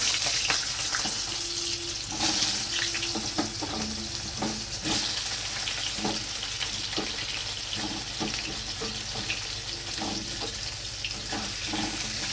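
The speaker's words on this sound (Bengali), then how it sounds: "এবার এই তেলেই আমি ভেজে নেব টুকরো করে রাখা কাঁচকলা।" Pieces of raw green banana sizzle in hot oil in a home kitchen, a steady crackling fry with scattered louder pops and light stirring clatter throughout, close and fairly loud with no talking.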